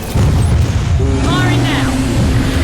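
Rockets launching in the video game Gears of War 4, a loud sustained rumbling boom with a rising whine layered over a heavy low roar, with a voice speaking over it.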